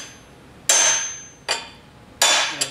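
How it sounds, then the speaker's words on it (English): A big hammer strikes a bent crankshaft three times, each hit a sharp, loud metallic bang with a short ringing decay, spaced unevenly with brief quiet between them. "You do have to hit it with a hammer to get the molecules to move."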